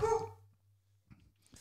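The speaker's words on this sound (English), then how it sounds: "You can hear the dogs barking." A single short dog bark, fairly near, followed by quiet with a faint low hum and a couple of small sounds.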